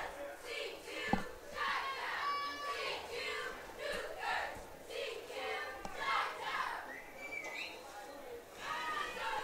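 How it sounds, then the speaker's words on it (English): Dazzlers cheer squad and crowd at a CUC Cougars college football game against Beloit College, a continuous outdoor roar of shouting, whooping voices with shrill yells and children's voices throughout, steady and moderately loud. "We can hear the Dazzlers cheering loud"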